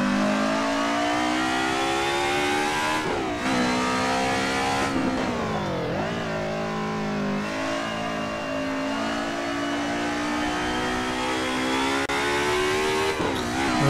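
A DTM Group A race car screams around the Nürburgring in Assetto Corsa, its engine note loud and close, holding high revs with brief dips and climbs at gear changes, alone without talk.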